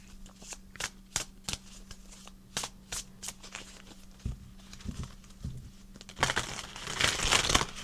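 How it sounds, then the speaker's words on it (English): Glossy tarot cards are shuffled up close: repeated crisp riffling slaps and soft clicks in irregular bursts, then a louder, denser flurry of slippery card flapping toward the end, with no voices. "These cards are a little difficult to shuffle. They're very glossy."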